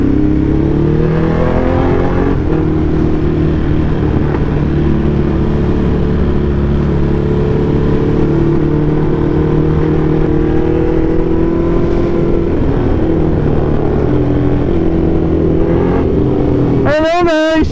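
Ducati motorcycle engine running steadily while riding, a loud continuous drone with shifting harmonics throughout, rising to a sharp rev near the end.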